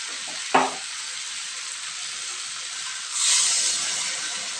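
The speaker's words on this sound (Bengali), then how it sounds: "গরম জলটা দিয়ে দেবো।" Hot water poured into a pan of frying taro and potato: a brief sharp splash and crackle early on, then a sudden swelling hiss of steam that slowly settles into a continuous sizzle.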